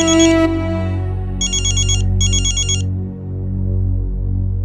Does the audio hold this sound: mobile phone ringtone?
yes